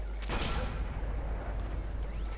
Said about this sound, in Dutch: Zal ik die ton knallen?